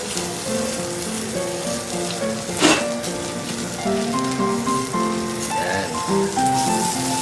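A stingray on a grill gives off a steady crackling sizzle, loud and close throughout, its fins charring at the edges, with a brief voice breaking in once.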